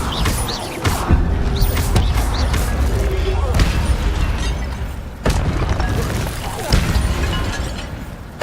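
Incendio fire spells are cast repeatedly in the Hogwarts Legacy video game, loud whooshing bursts and booms of flame in an ongoing fight, with sharp impacts recurring every second or two and voices among them.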